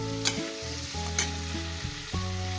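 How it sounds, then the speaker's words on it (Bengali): Onions, green chilies and garlic leaves fry in a pan for a parshe fish dish, giving a continuous crackling sizzle with a few sharp stirring scrapes, under a steady electronic hum and no talk. "দিয়ে দিলাম সব দিয়ে এটাকে আমি মিনিমাম তিন থেকে চার মিনিট ভেজে নেব"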